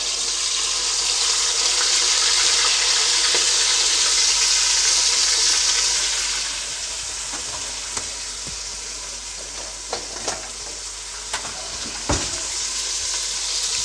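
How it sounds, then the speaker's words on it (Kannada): Carrots, field beans, green beans, spinach and tomato frying in oil in a pan, a loud steady sizzle for the first half that settles to a softer hiss with a few sharp clinks of a spoon stirring against the pan. "ಎಣ್ಣೆಯಲ್ಲಿ ಸ್ವಲ್ಪ ಚೆನ್ನಾಗಿ ಫ್ರೈ ಮಾಡ್ಕೊಳ್ತೀನಿ"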